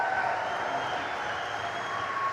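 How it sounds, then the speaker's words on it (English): Scattered applause for a senator at a town hall meeting with veterans in attendance, a soft, steady wash of clapping from a seated crowd heard at a distance throughout. "we need to give a great big hand applause to the"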